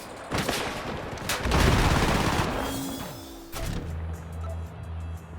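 Dense bursts of gunfire from the FPS game Combat Champions, rapid overlapping shots and booms at close range, with a steady engine-like drone underneath toward the end and no talk.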